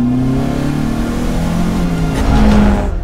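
A restored, performance-modified Alfa Romeo GTV engine revs loudly and close, its pitch sweeping upward in a smooth, sustained climb with a raspy mechanical edge.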